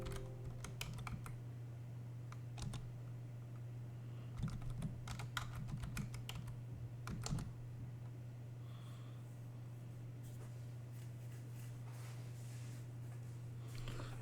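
Fast computer keyboard typing in short bursts during a Linux command-line session, crisp clicks in several clusters over a steady low hum, then quieter stretches with only occasional keystrokes.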